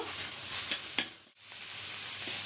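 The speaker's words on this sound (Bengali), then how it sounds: "নারকেল কোড়া দিয়ে আরো ভালো করে একটু মিশিয়ে নেব।" Shredded cabbage mixed with grated coconut is stirred in a hot pan, a soft steady sizzle broken by a few light scraping strokes of a spatula, quiet and close.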